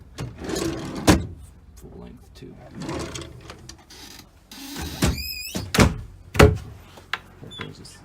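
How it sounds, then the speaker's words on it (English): Drawers inside a 2000 Newmar Dutch Star motorhome open and close with several sliding thunks and clunks at close range. Someone speaks briefly between them. "And drawers down here,"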